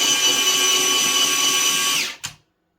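An Afmat electric pencil sharpener grinds a colored pencil with a loud, steady high-pitched whine that winds down after about two seconds, followed by a brief clunk and then silence.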